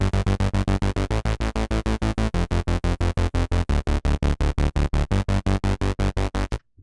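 A synthwave bass sequence on a Sequential Pro 3 synthesizer repeats as a fast, even train of punchy pulsed notes, loud and upfront with no voices, then cuts off abruptly at the end.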